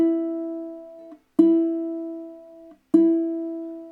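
A ukulele string tuned to E is plucked three times in a row, each note ringing clearly and alone before the next pluck, on a re-entrant-tuned beginner ukulele.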